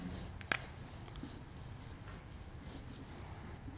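Pen or chalk writing by hand, with soft, faint scratching strokes and one sharp tap near the start, heard close against a quiet background.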